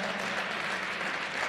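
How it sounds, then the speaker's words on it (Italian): Dense, even applause from spectators at an athletics meet in Ancona rings out for a long-jump athlete, a sustained clapping wash with no pauses. "Bel applauso meritato per la rissa"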